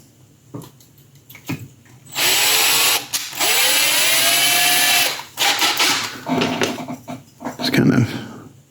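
A power drill fitted with a small bit works on a 1/6 scale Predator figure sculpt, giving two loud, sustained whining bursts close by, followed by clattering handling noises.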